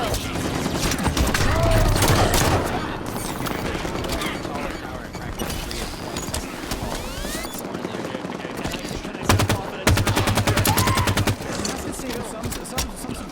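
Halo 5 gameplay with enemy Elite gunfire: sustained rapid bursts of shots and fusillades over a loud, dense battle din, with voices and other game sounds mixed in throughout.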